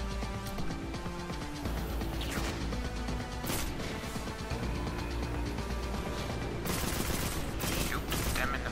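Sustained heavy gunfire in the shooter game Destiny 2: dense, continuous bursts of shots and crashing impacts fill the whole stretch at steady loudness, growing sharper and more intense toward the end.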